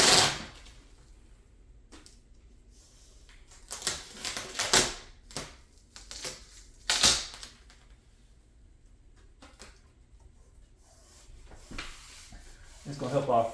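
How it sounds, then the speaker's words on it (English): Construction masking tape being pulled off the roll and pressed down around the edge of a countertop before an epoxy pour, heard as a series of loud, sharp ripping bursts separated by quieter pauses. "I'm going to go around with some tape, some nice masking tape, construction tape, and do a nice little line around it."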